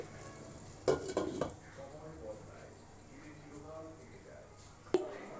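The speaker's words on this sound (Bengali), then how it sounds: "ঢাকনাটা তুললাম" A lid lifted off a cooking pot, giving a brief metallic clatter of clinks followed by a later single clink, close by, over a faint steady kitchen background.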